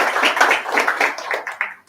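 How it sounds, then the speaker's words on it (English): Brief clapping from an audience at a Sydney data engineering meetup, a burst of hand claps lasting under two seconds that tapers off toward the end. "Round of applause."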